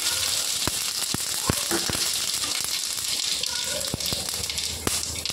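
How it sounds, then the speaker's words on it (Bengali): Black mustard seeds hit hot oil that already holds dried chilli and sizzle loudly and continuously, with sharp crackles and pops scattered through the hiss. "সর্ষেটা তেলের উপর দিয়ে দেবো"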